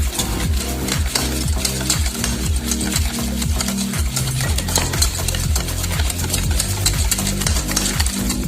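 Vanilla sponge cake batter mixed briskly in a bowl, giving a continuous loud rhythmic swishing and scraping with regular beats of the utensil against the side.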